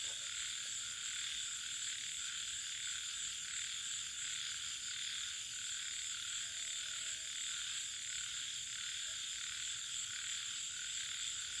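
A chorus of frogs croaks steadily at night in rural fields during a frog-hunting outing, dense and continuous with a faint insect hum and no talking.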